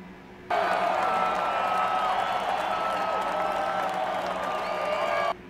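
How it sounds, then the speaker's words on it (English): An unbroken burst of crowd applause and cheering starts abruptly, holds at a steady level for about five seconds, then cuts off sharply, like an inserted applause effect. Murmured speech sits faintly beneath it. "Round of applause for them."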